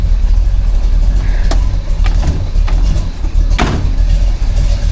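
A hot rod truck engine idles steadily up close, a continuous low rumble with a few brief sharper blips along the way and no talk over it.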